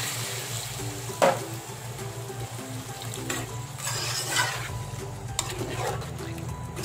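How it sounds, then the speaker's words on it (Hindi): Water poured from a cup into a cooking pan for a Chinese-style fish sizzler splashes and bubbles over a steady background hum, with a sharp splash near the start and softer stirring noises after. "एक कप पानी डाल दीजिए।"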